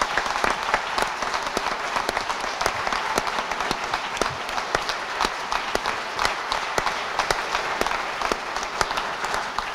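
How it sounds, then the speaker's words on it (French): A church congregation applauds volunteers during a parish back-to-school Mass, with dense, steady clapping from many hands filling the whole stretch at an even loudness. "Donc on va les applaudir très fort et les remercier."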